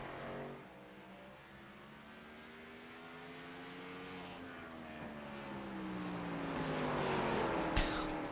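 A race car engine at Martinsville climbs in pitch as it revs toward the red line, then drops off as the throttle lifts, a steady buzzing whine that swells louder toward the end.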